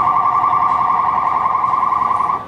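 An eBox package security system's anti-theft alarm blares a steady, loud electronic tone, continuous and close, stopping abruptly at the end.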